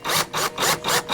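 A drywall screw being driven into outdoor wood, heard as several rhythmic grinding, rasping bursts spaced about a quarter second apart, close and fairly loud.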